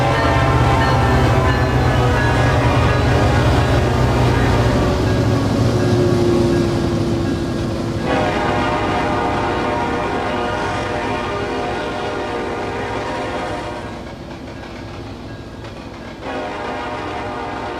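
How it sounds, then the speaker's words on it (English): A train in Trainz Railroad Simulator rolls past, a loud continuous rumble of wheels and engine with sustained horn-like tones that shift and fade as the train moves on. "we'll let the train roll by here"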